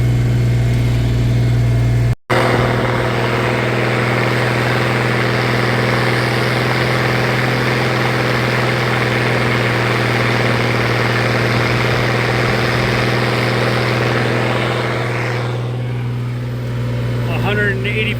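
A tractor engine runs steadily under load while working a corn field, a loud, continuous drone with a deep low hum that holds for the whole stretch, broken only by one brief dropout near the start.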